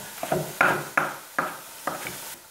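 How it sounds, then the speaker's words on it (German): Leek being cut into pieces with a knife, five distinct chopping strokes at an uneven rhythm, each a close, crisp cut ending in a short knock on the board, with no talk. "So, den Lauch schneide ich mir auch in Stücke."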